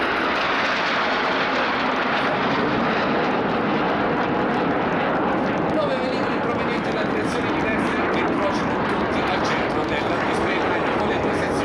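Frecce Tricolori jets fly the bomba crossing at the Jesolo airshow, producing a loud, sustained, broadband jet roar that holds steady throughout.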